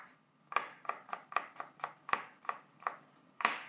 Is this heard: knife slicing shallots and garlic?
yes